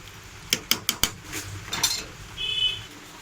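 Fried bhujia tipped into a pot of khichuri and stirred, a quick run of sharp metallic clinks and scrapes from the spoon against the pot, then softer rustling stirring, close and fairly quiet.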